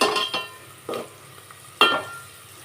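Onions, green chilies, coriander and curry leaves frying in hot tempering oil, with soft sizzling broken by a few sharp stirring scrapes and clinks of a spoon against the pan.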